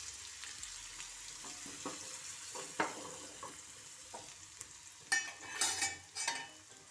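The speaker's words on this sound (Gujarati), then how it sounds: "ત્યારબાદ હળદર પાવડર, આદુ અને લસણની પેસ્ટ મેં કરી લીધી છે એ નાખશું" Asafoetida, turmeric powder and ginger-garlic paste sizzling in hot oil in a pan, a faint, steady frying hiss with scattered stirring clicks and a few louder spattering bursts toward the end, no talk.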